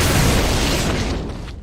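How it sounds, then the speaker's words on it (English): A rocket launcher blast in the 2002 Capcom Resident Evil remake: a single loud, dense explosion roar that fills the sound and slowly fades over under two seconds. "you had limitless propelled explosives to send at the zombies in Capcom's 2002 Resident Evil remake"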